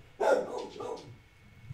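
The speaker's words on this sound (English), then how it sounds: "Pardon the dog barking" A single dog barks once indoors in the background while a card game is being played, one short moderately loud bark that trails into a brief softer yelp.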